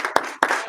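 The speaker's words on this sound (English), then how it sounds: "Give him 1 clap. Give him 2 claps." A class claps for a student: three sharp, close bursts of clapping hands in quick succession, each brief and loud, with no talking over them.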